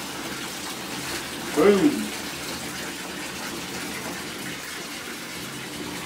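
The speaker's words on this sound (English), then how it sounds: "Getting these packs washed." Water runs steadily while hiking backpacks are washed during an Appalachian Trail thru-hike, an even rushing flow that continues throughout, with a brief spoken word near the start.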